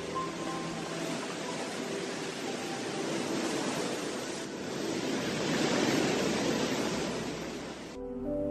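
Steady rushing water near a Buddhist temple, a constant broadband wash like a stream or waterfall that swells slightly midway and continues without voices.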